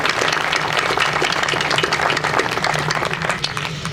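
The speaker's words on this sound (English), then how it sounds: "let's give him a round of applause and the rest of the staff" Audience at a Ranger statue dedication ceremony in Enid applauds steadily for Kevin Fields and the staff, a dense, even wash of many hands clapping throughout with no voices on top.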